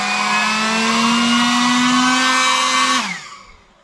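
A cheap no-name leaf blower screams at full power, its high whining tone holding steady and loud before the motor cuts off and spins down quickly into quiet.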